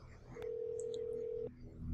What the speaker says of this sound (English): Let's see who answers the phone.